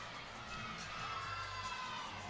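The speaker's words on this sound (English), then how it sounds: "lots of excitement in the crowd after Kinsey Davis, her vault." An excited crowd cheers at a collegiate women's gymnastics meet between Air Force, Denver and Nebraska, a steady wash of shouting and applause from many voices filling the arena.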